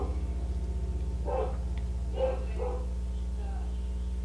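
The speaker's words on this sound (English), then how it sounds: "Sorry if you hear my dog barking." A dog barks a few times in another room, faint and muffled, under a loud steady electrical hum.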